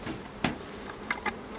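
Local bees buzzing steadily around a hive outdoors, a continuous close hum with a few louder passes as individual bees fly near.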